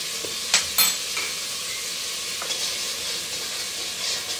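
Chilli being stirred into a hot tempering of mustard seeds, fenugreek, carom seeds and curry leaves for pakoda kadhi, a soft steady sizzle with a few sharp spoon scrapes against the pan early on.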